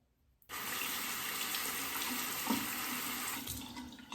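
Tap water runs steadily to rinse a shaving razor, a sudden gushing stream that starts after a brief silence and continues close and even to the end.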